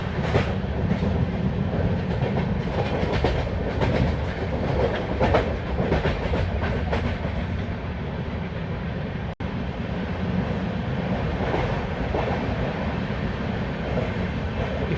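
Steady rumbling roll of the Durg–Puri Intercity train on Indian Railways, wheels clattering over rail joints in a continuous loud din heard from inside the carriage, with no talk.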